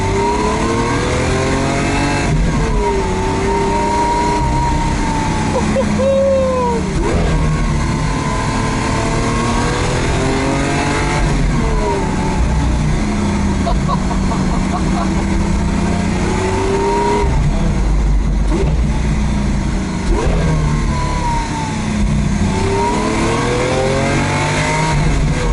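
A Lamborghini race car driven through central London, its engine roaring close and loud, repeatedly revving up and falling back through gear shifts over a steady low rumble of traffic.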